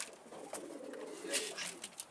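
Pigeons coo softly on a rooftop where a bird keeper tends chicks, low faint murmuring calls with a few brief sharper sounds, quiet and close.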